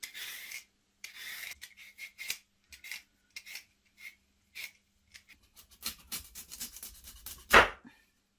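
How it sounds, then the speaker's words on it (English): Potatoes and other vegetables being peeled for a homemade Cornish-style pasty, short scraping and rasping strokes coming one after another at close range, fairly quiet, with a louder scrape at the end. "peel our vegetables"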